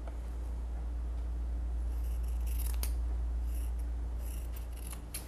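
Scissors snip along the corners and edges of a handmade fabric-covered jewelry box. The cuts are faint, close and repeated, clustering in the middle and near the end over a low steady hum, with no talk.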